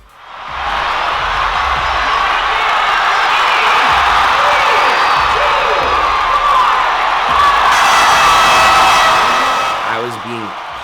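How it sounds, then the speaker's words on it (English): Thousands of spectators roaring and cheering on their feet at the 2019 CrossFit Games after a workout finish, a loud sustained crowd wall with whoops, lasting throughout before tapering at the end. "Thousands and thousands of people were 10 feet in front of me, roaring, all on their feet, all supporting me, all cheering all of us on."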